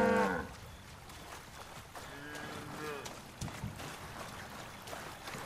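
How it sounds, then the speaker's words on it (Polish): A cow in the Far Cry 5 Vietnam DLC gives a clear, fairly close moo at the start, followed by quieter in-game ambience and low, distant lowing. "Oto krowa ruska."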